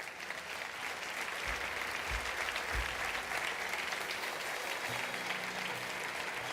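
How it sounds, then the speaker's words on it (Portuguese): A church congregation claps in a long, even round of applause that holds steady from start to finish, moderately distant and fairly quiet, with a few low thumps underneath and no speech. "Você pode dar ao Senhor mais um forte aplauso por cada um deles."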